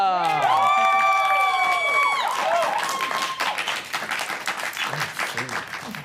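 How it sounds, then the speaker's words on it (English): Audience applause for a guest at the close of a Regency-era history show rises after a bright tonal musical flourish and continues as a broad, steady wash of clapping that gradually thins. "can I get a round of applause for our wonderful guest, Olivia?"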